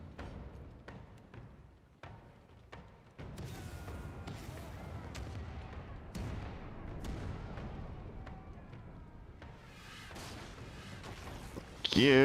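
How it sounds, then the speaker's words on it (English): Ship cannons firing during a naval battle in the Pillars of Eternity 2: Deadfire video game, a run of sharp booming blasts over a dense, rumbling battle din that swells louder toward the end. "Fire the cannons!"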